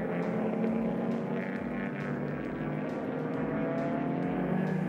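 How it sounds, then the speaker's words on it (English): Race cars running side by side through a corner on a circuit, engines droning loud and steady with a continuous mechanical roar that holds level throughout. "Van Moltke narrowly ahead, but Malone fights back on the next corner and the pair runs side by side"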